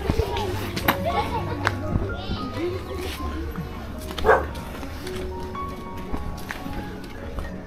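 A dog barks outdoors near a cliff with scattered, brief barks at moderate distance. People talk over the barks and there is constant background noise.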